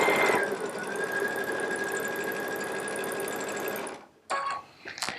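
A Baby Lock Solaris sewing machine runs a straight center-position stitch in a fast, even whir of rapid needle strokes for about four seconds, then stops, followed by a few brief clicks and handling noises.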